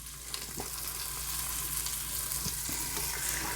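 A batch of chicken frying in an Instant Pot, giving a steady, close sizzle with soft hiss and a few faint knocks, continuous and fairly even throughout with no voices.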